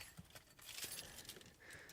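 A set of keys for a 1999 Toyota Celsior Spec C jingles and clinks in a hand, light metallic rattles in quick irregular bursts, close and fairly quiet.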